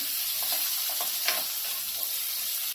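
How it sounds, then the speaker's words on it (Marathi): Chopped onion sizzles in hot oil with crushed garlic and green chili, a constant moderate hiss with a few brief stir-scrapes scattered through, no one talking. "कांदा टाकून घेऊया कांदा चांगला मऊ करून घ्यायचा"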